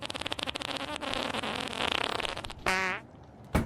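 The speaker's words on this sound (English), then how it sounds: "just an unnecessary fart off the rip." A long, sputtering fart sound effect from a soundboard plays alone, a rapid string of flapping pulses lasting over two seconds, followed by a brief tonal blip and a short sharp burst.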